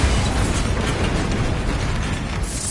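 A Bombarda spell explosion in a Harry Potter video game makes a loud, sustained roaring blast that fills the whole moment with dense rumbling noise.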